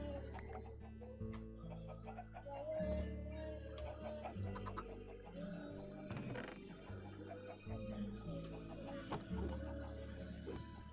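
Chickens cluck in the Minecraft Foolcraft modpack, with clucks repeating over steady background game music and ticking, moderately loud.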